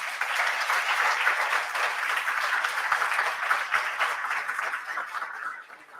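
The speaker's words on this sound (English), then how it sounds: "let's give them a round of applause" An audience at a startup pitch event applauds the pitch contestants with sustained, dense clapping from start to finish, easing slightly in the last moment.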